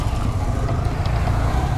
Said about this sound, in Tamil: இங்கே வேறு டிராஃபிக் ஆகிட்டுருக்கு.